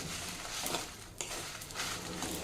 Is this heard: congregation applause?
no